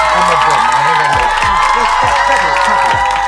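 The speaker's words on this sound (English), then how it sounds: "Clap it up for him, man." Crowd cheering and whooping with some applause for a DJ, loud and continuous throughout, with shouted voices and a steady tone running beneath the noise.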